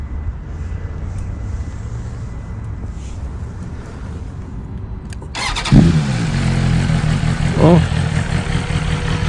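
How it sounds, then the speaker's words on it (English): A 2023 BMW S 1000 RR sport bike in race mode fires up after a quiet stretch, its engine catching with a loud, close burst, then settling into a rough idle broken by two sharp throttle blips. "So let's start her up."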